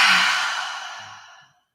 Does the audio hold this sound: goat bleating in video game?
no